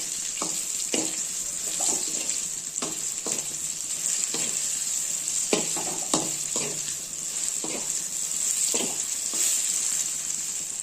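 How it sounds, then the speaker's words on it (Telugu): Brinjal frying with chilli powder in a pan gives off a steady bright sizzle, with repeated close scrapes and taps as it is stirred and no voices. "ఇప్పుడు మనం మిర్చి పౌడర్ వేసుకొని"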